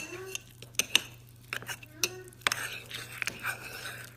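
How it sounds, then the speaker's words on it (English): Spoon stirring a mixture in a bowl, producing a series of sharp clinks and scrapes at irregular intervals, close and fairly clear against a low steady hum. "And now we, mix it up. With the spoon, exactly."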